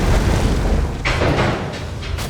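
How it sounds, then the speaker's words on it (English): A boss self-destructs in a final explosion in Hollow Knight: Silksong, a dense booming blast with rumbling low-end noise sustained throughout, flaring with a few sharper bursts partway through. "That final explosion to just kill you as the boss self-destructs is crazy"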